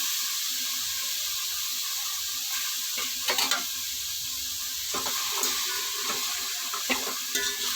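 Tomato and mint cooking in a pot without oil, with rock salt, for coconut milk biryani: a steady, close sizzling hiss with a few light stirring scrapes and bubbling pops, and no talk.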